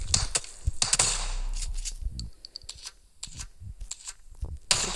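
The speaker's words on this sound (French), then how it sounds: "Ça tire. C'est moi qui tirais." Gunfire in a solo-versus-squad battle royale shooter game: sharp bursts of shots at the start, then scattered single cracks and clicks, fairly close, with brief voice sounds.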